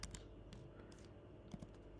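A few sharp keystrokes on a computer keyboard as a Linux terminal command is typed, scattered irregularly with short gaps, close and fairly quiet over a low room hum.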